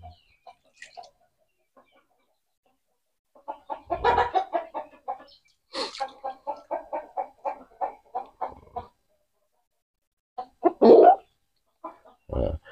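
A chicken with a swollen face and watery, runny eyes clucks during eye treatment, giving close, short bursts of clucks in irregular clusters with quiet gaps and occasional louder squawks.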